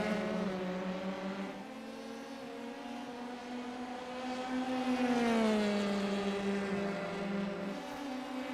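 Simulated Formula 3 race car engines at Monza droning with a rising and falling whine as cars pass, steady and fairly loud, no voices present.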